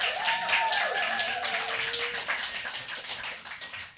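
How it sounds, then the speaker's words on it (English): An audience at a poetry festival claps for poet Lynne Thompson, a full, steady round of applause with a few whoops and voices rising in the first two seconds before the clapping thins slightly toward the end. "One more round of applause."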